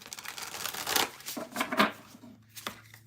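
A deck of tarot cards is shuffled up close, giving soft papery riffles and crinkling bursts that rise and fall in a few uneven surges, with a brief sharp snap at the end.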